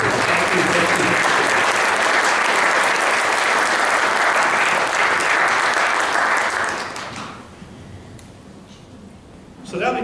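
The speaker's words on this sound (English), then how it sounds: "give this chapter a big round of applause for your support and what you've done to support it" Audience applause at a hiking club chapter meeting, a dense sustained clapping from a room full of people that holds steady for about seven seconds, then fades quickly to quiet room tone.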